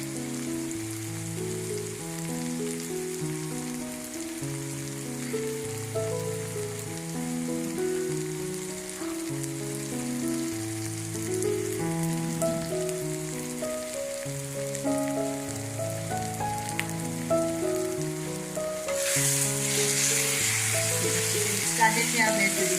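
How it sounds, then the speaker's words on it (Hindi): Okra (bhindi) frying in a pan for a sour, spicy achari dish, a steady close sizzle with a broad crackling hiss that swells a little louder near the end, no voices. "अब ये बहुत ही अच्छी तरह भिंडी फ्राई हो गई है।"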